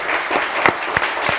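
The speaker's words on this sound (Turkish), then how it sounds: "Bir daha alkış lütfen." Studio audience at a Turkish television word-game show applauding steadily, a continuous dense patter of many hands with a few louder individual claps standing out.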